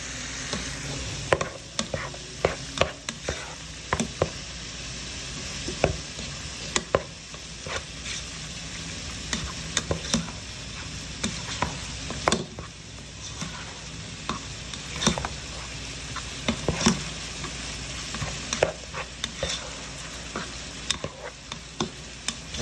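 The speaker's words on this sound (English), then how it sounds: "We're just going to stir this up." Chili with ground beef and beans being stirred in a pan, with a steady low sizzle and frequent clicks and scrapes of the utensil against the pan, close and continuous.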